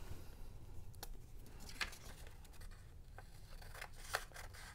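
Scissors cut through green paper while folding a paper square for a pumpkin bookmark craft, making a couple of faint crisp snips over a quiet, hissy room.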